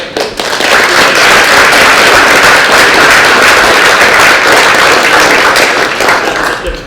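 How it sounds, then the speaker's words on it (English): A big round of loud, dense applause from an event audience in St Helens, continuous and close, sustained from start to finish without talk. "Can we give a big round of applause to Mary and the whole team who kept it?"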